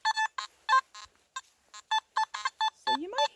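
A Simplex SP24 metal detector sounds a series of short, quiet electronic beeps and tones, ending with a low rising grunt-like tone typical of an iron signal.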